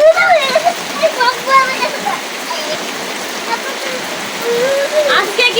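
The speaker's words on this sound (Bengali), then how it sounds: "আজকে কি বৃষ্টি থামবো নাকি জানি না" Steady rain falls in a village after a stormy night, an even wash of hiss and patter close by with occasional drips and splashes. A person talks intermittently over it.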